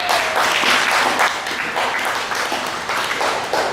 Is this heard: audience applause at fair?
yes